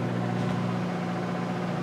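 A household microwave oven runs in an EMC compliance test setup, producing a steady low electrical hum with a constant droning tone and a soft noise floor.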